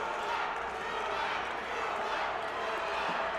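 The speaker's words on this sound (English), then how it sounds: "The crowd is chanting for Ruan." Crowd at a Versus Fight Night combat event chanting for fighter Ruan, a dense steady roar of many voices filling the arena with no clear breaks.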